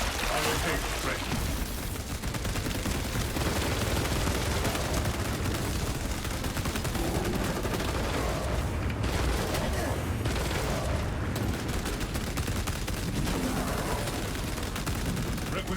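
Heavy bolter fire tears through hordes in the Space Marine video game, a dense, continuous roar of rapid gunfire and explosions with a voice speaking faintly underneath.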